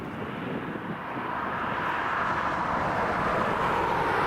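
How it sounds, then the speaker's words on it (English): A Ryanair Boeing 737 arriving at Dublin Airport from Birmingham produces a steady, broad engine roar that grows slightly louder through the moment, continuous and moderately distant, with no voices. "we have that Ryanair Boeing 737 just arrived in from Brum"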